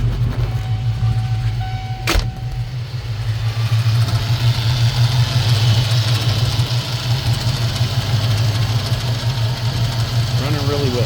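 A 1993 Cobra that sat for 20 years idles steadily, its low, even engine rumble droning close and loud, with a sharp click near the start and a voice speaking at moments.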